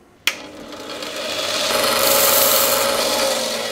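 A dial gauge mount part being sharpened to a point: a sharp click, then a steady rising grinding or rasping sound that holds on continuously, close by and fairly loud.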